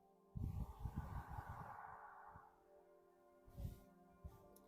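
A slow, deep breath drawn in through the nose, then a long airy exhale, followed by another quieter breath; close and soft.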